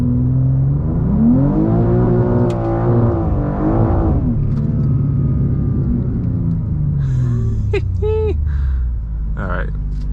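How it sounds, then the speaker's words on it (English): A BMW M2 G87 engine rumbles and revs for a small burnout, a loud rising and falling drone close by that settles into a steady hum, with a few short sharp squeals later. "let's do a small burnout"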